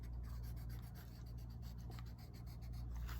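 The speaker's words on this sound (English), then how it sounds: "Go in, erase everything." A pencil eraser rubbing back and forth on paper, a quick steady run of soft close scrubbing strokes that continues without pause and with no talking.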